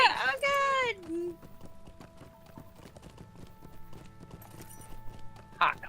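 A horse galloping in the game Lord of the Rings Online, its hoofbeats running fast and soft beneath loud voices that shout and exclaim at the start and again near the end.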